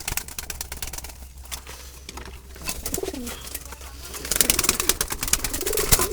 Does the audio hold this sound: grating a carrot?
no